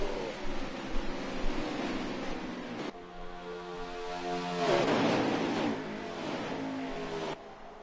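Race car engines in NASCAR Heat 5 at Daytona, a pack of stock cars roaring together in a steady droning blend, swelling as they sweep down the back straightaway and briefly cutting out, with no talking.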